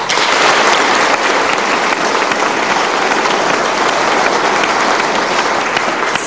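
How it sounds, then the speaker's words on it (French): Sustained, loud applause from an audience at a French dictation contest honouring its winners, many hands clapping in a thick unbroken roar that stays level from start to finish. "Maintenant, vous pouvez les applaudir."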